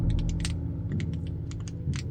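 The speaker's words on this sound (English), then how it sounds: "Now it's wooden, and it's makes a sort of clicking noise." A wooden object is worked gently, giving quick bursts of fine, dry clicks in short runs, somewhat like a zip being pulled, close and fairly clear with no talking.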